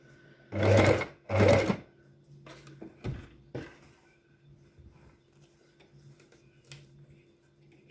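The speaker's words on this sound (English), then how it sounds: "Sewing that on the machine" Sewing machine stitching a fabric pencil case, two loud, close bursts of stitching followed by quieter clicks and handling of the fabric and machine.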